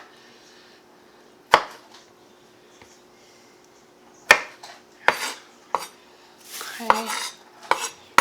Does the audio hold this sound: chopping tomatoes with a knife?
yes